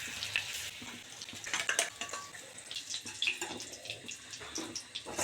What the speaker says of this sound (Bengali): চিলি করার জন্য বেশি মাংস ভাজতে লাগে না তো হালকা হালকা ভাজলেও হয়